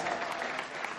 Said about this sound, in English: we need to give Amy a round of applause